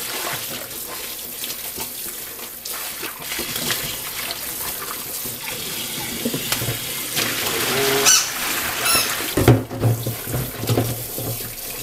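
Goalkeeper gloves are rinsed under a running tap: loud, continuous gushing water close up, with brief splashing and handling noises near the end.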